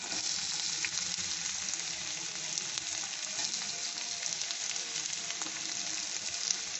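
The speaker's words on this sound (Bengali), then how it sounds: "রসুনটা একটু দিয়ে ভালো করে নেড়ে নিচ্ছি। পেঁয়াজ আর লঙ্কাটাও দিয়ে দিলাম।" Garlic, onion and chili frying in a pan, a dense, even hiss of sizzling oil with faint stirring scrapes, steady and close throughout with no talk.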